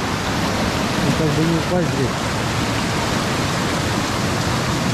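A rushing river tributary near Yalta, swollen with water, fills the scene with a loud, steady broadband roar, and a voice speaks briefly over it.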